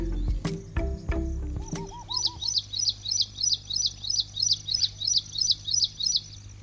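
A purple sunbird, a small active bird, at Gandhi Sagar in Madhya Pradesh calls in a fast series of sharp, high repeated chirps, clear and fairly close, after a few knocks and brief lower notes.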